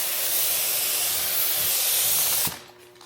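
Paint spray gun spraying clear coat in a test burst, a steady loud broadband hiss of compressed air and atomized finish lasting over two seconds, then cutting off abruptly into quieter room noise.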